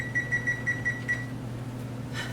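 A kitchen timer beeps as it is set, a string of short, evenly spaced high beeps over a low steady hum, then one more brief chirp after a pause.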